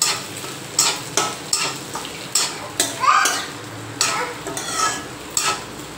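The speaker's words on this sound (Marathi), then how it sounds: "आता त्याला चांगलं मिक्सअप करते।" Sabudana khichdi being stirred with peanut powder into a potato tempering, a spoon scraping the pan in repeated strokes about every half second over a soft sizzle, close and fairly loud.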